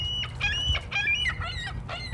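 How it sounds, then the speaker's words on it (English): Seagull calling at a lagoon, a series of about five harsh, honking squawks in uneven rhythm, close and clear over low background rumble. "There's an official seagull making noises for everyone"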